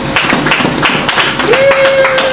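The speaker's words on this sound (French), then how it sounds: "Est-ce qu'on peut applaudir la parole du Seigneur?" Congregation clapping during a Sunday church service, bursts of fairly loud hand claps in an uneven rhythm with a sustained tone rising in and holding through the second half.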